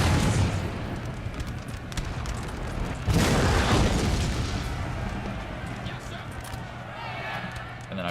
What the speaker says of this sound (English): they just took a huge artillery shot